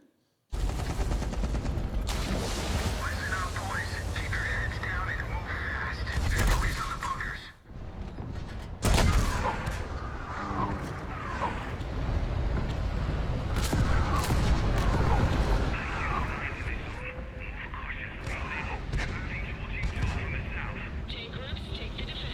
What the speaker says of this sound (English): Let's listen to how small explosion sounds at different distances.